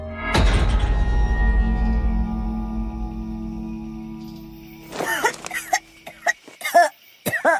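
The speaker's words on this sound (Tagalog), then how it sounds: "dinalahit siya ng ubo gaya ng dati" A heavy thump rings out first, then a harsh coughing fit of several rough, throaty coughs close by after a few seconds of quiet.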